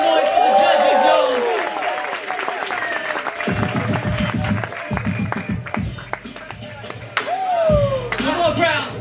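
Crowd at a breakdance event applauding and cheering for the judges, dense clapping near and loud, with whoops and a voice talking over the noise.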